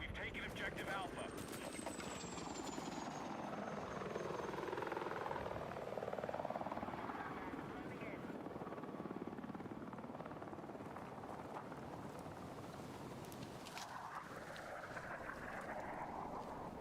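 Video game helicopter rotor with a steady whooshing, droning thrum that swells and fades as the aircraft moves, heard alone over wind-like noise.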